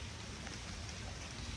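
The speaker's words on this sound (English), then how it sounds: "now it is really raining" Steady rain falling on a garden where peppers are being planted, an even soft hiss with no pauses and no voices.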